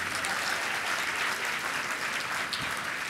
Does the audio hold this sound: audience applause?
yes